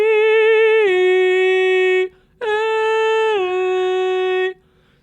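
Strong, resonant head-voice singing carries two sustained phrases, each holding a bright note and then dropping to a lower one, loud and close with a brief pause between them.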